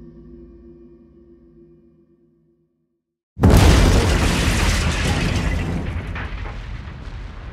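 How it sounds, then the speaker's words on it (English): A bomb goes off in a building's car park: a sudden, massive blast bursts in after near silence and a fading low hum, then rolls on as a loud, sustained roar of rumble and debris. "The explosion shakes the building and devastates the car park."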